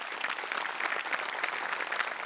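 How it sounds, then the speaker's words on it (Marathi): A studio audience at a Marathi comedy show claps loudly and steadily, a dense, even wash of applause that fills the whole clip with no pauses. "पुन्हा एकदा जोरदार टाळ्या"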